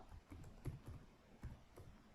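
Keys tapped on a computer keyboard in a short burst of irregular clicks, a few louder strokes standing out, close and alone with no voices.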